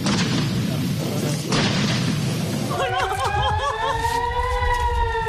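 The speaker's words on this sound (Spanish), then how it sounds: "un sinfín de explosiones se escuchaban a su alrededor" Heavy rumbling blasts and roar from a bombardment in Israel give way partway through to several overlapping air-raid sirens wailing up and down, loud and continuous.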